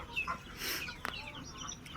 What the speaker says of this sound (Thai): อันนี้คือลูกเป็ดหน่อยนะคะ ลูกเป็ดหน่อยนี่ กินหัวอาหารจ้ะ